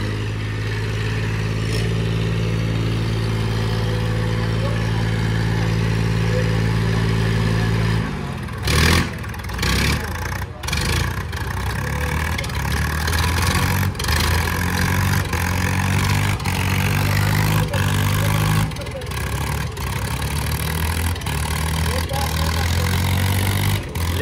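Eicher 557 and Sonalika 750 tractors straining in a tochan pulling contest, a loud steady diesel drone with deep engine harmonics that breaks into rougher, fluctuating revving and clatter partway through, with voices over it.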